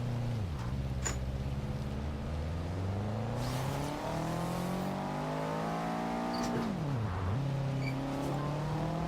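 A Subaru Impreza engine in the racing game Forza Horizon 2, revving up and down through gear changes in a sustained whine, steady and fairly loud with no talking over it.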